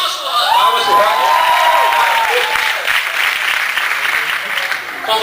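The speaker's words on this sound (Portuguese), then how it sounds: "Palmas pro Rock" A lively crowd claps loudly for a performer on stage, dense steady applause mixed with cheers and whoops, while a voice sings or calls out over the noise early on.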